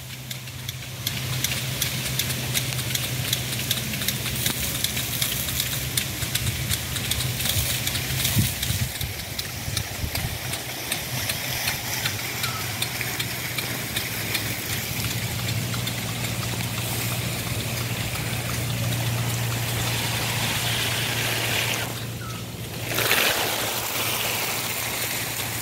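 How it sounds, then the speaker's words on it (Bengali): A rotating sprinkler sprays water across the Kodala tea garden in Rangunia, making a steady broad hiss with rapid rhythmic ticking over a low constant hum that runs throughout. "কীভাবে এই যে পানি ছিটানো হচ্ছে দেখেন"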